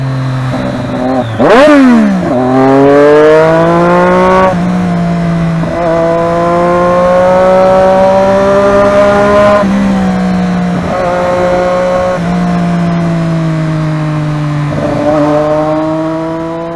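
A Triumph Daytona 675 motorcycle, ridden in heavy city traffic, gives a sharp rev blip that quickly rises and falls, then settles into a loud, close engine drone. Its pitch dips and climbs several times as the throttle shifts.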